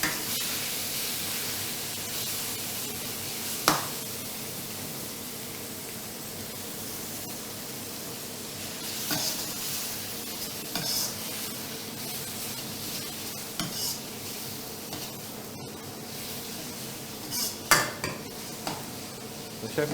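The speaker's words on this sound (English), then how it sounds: "We need a couple seconds to make sure the turkey is sauteing properly before we add another ingredient." Turkey sautés in a pan with a faint, steady hiss and sizzle, broken now and then by quiet clinks and scrapes of utensils, low in level and without speech.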